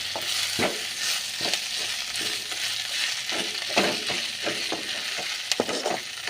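Drumstick leaves fry in oil in a pan, a continuous close sizzle broken by repeated sharp spatula scrapes and knocks at an irregular rhythm, fairly loud and with no talking.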